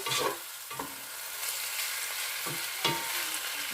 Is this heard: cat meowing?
no